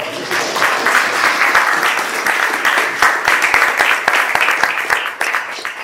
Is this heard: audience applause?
yes